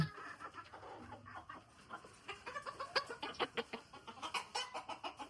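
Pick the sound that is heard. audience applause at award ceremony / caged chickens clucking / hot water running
caged chickens clucking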